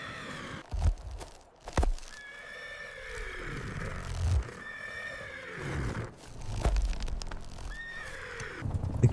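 Wild stallions being lassoed out on a harsh winter steppe whinny and neigh repeatedly, loud and close, with snorts and scuffling hooves between the calls.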